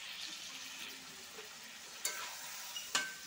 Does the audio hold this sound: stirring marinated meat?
yes